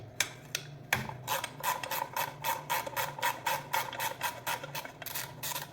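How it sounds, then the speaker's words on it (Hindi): A ratchet wrench clicks in quick regular bursts while loosening the bolts of a magnet cover on a China 70 cc motorcycle engine, close and clear, with a few sharp metallic knocks at the start. "इस तरह से हम इन बोल्ट्स को खोल लेंगे।"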